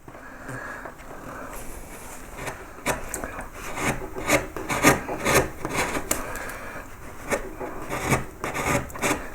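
A chisel shaves and scrapes wood while undercutting a pierced relief carving of a yellow flag iris, with repeated close rasping strokes that come in a loose, irregular rhythm.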